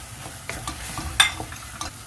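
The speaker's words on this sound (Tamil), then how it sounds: "இதை மிக்ஸ் பண்ணிக்கோங்க நல்லா." A spoon stirs tomato, ginger-garlic paste, garam masala and chilli powder frying in a pan: soft scraping strokes recur about every quarter second over a faint steady sizzle, with one sharper clink midway.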